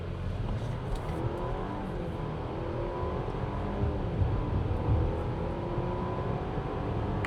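A 2026 Audi Q5 SUV of about two tonnes accelerates at full throttle in Dynamic mode, heard from inside as a steady engine drone rising in pitch through the gears.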